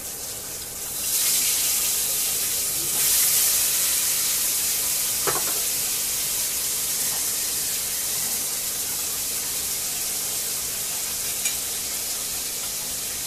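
Tilapia fish frying in hot oil in a pan, a loud continuous crackling sizzle with a few louder pops and occasional stirring clatter, steady throughout without talk.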